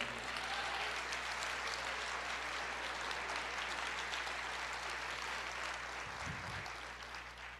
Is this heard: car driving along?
no